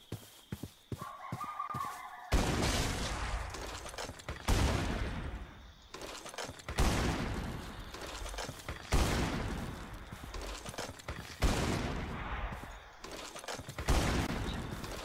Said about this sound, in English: Just need to fire out the last 13 shots